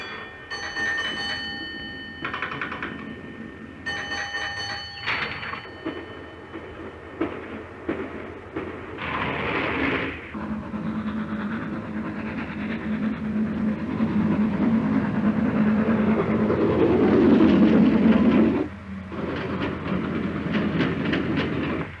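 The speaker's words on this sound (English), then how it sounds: "The train gathers speed" A 1938 LMS train gathers speed along the rails, rhythmic clickety-clack building into a loud, rising rumble with a few bell-like dings early on and a brief dip near the end.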